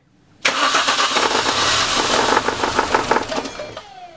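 A car engine cranks and catches after its spark plug cables were refitted. It starts suddenly, then runs roughly and unevenly with a sputtering, juddering note for a few seconds before cutting off.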